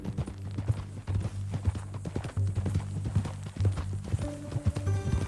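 Horse hooves clip-clop at a steady walking pace in Red Dead Redemption 2, close and clear over a low droning music bed, with no talking.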